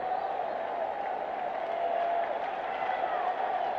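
Crowd noise at a 1986 Rangers at Orioles baseball game, a steady roar of cheering spectators heard from a distance with no break, filling the whole stretch evenly.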